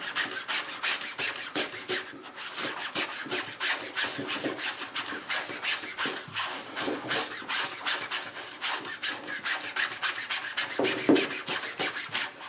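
Hard back-and-forth scrubbing of a ranch dressing stain on clothing worked with plenty of Dawn dish soap, a steady rapid rasping rub that continues close and loud throughout with no talk.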